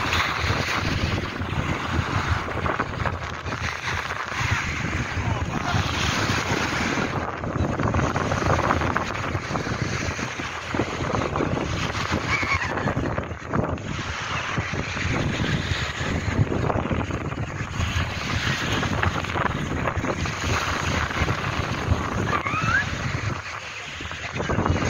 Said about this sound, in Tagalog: Malaki ang dagat.